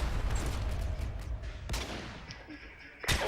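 Rapid FMG9 gunfire in a Call of Duty match crackles in dense, continuous bursts with a few sharper shots standing out, moderately loud with no talking.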